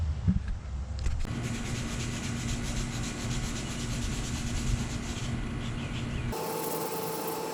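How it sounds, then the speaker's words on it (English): A power sander grinds steadily against the metal roof of a Honda Civic Si, a continuous rough whirring that changes pitch near the end. "let's go ahead and get this sanded down and get this process started"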